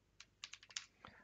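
Computer keyboard being typed on while entering a browser search in Garuda Linux: a quick, quiet burst of about eight close, light key clicks in an uneven rhythm.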